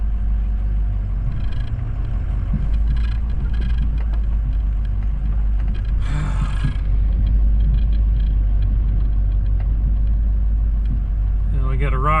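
Truck carrying a sawmill over rough off-road ground, a steady low engine rumble with bumps and rattles riding on top, and someone talking over the noise.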